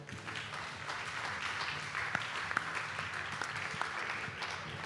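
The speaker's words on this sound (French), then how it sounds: "je vous demande de l'applaudir" A crowd at the Fête de l'Humanité applauds a speaker as he is introduced, a dense, continuous outdoor wash of clapping at even volume throughout, with scattered sharper claps.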